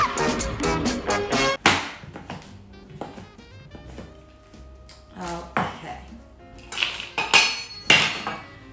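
Chickpea chocolate ingredients being mixed in a bowl: repeated close clinks and knocks of a utensil against the bowl, irregular in rhythm and occasionally louder, with no talking.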